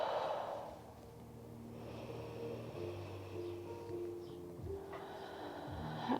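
Slow, deep breathing during a yoga session for the hips and shoulders, with a long soft inhale and exhale heard close up. It is quiet and unhurried, and a gentle tone hums in the background.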